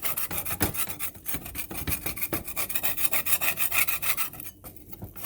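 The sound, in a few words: scraping residue off unpolished marble grill slab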